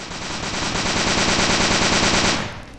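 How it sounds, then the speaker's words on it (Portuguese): Rifle fire in the online shooter MicroVolts: a loud, continuous rapid-fire burst of gunshots lasting a couple of seconds, close and dominant, then cutting off abruptly. "Olha o rifle, olha o rifle."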